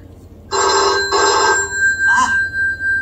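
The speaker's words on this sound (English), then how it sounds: "That's the phone." Old-fashioned telephone bell ringing in a household scene, two loud double rings close by, followed by a softer, lower rhythmic ringing tone.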